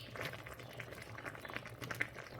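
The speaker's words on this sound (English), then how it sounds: "I've now reduced the heat and the temperature on low for it to simmer. So we bubble, and now we're simmering." A pot of oxtail with purple and white onion, scotch bonnet pepper and thyme simmers on low heat with a soft, steady bubbling and popping, quiet and close, with no talking.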